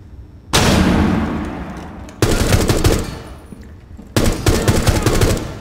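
Gunfire from a weapon in Rainbow Six Siege, played in campaign: three loud, dense bursts of rapid shots, each ringing out and decaying before the next, with no talking.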